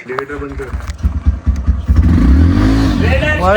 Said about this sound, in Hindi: अभी हम लोग बाइक स्टार्ट करने वाले